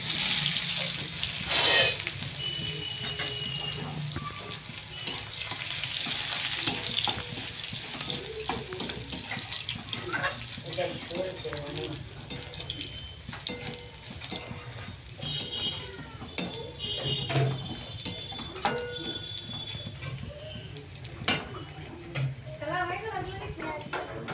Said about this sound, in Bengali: রসুনটা ভাজা হবে।